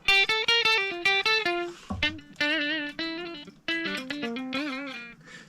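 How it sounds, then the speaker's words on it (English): Short sung or played notes ring out through a DJ mixer's reverb and delay effect, with a spacious echo and repeating tails, a wet, reverberant effect trailing each phrase. "I can turn this slider, affects the reverb and delay on that channel"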